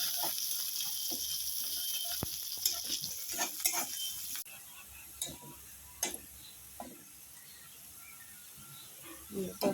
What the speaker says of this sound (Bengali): পেঁয়াজটা আলুটা একটু ভেজে দেবো।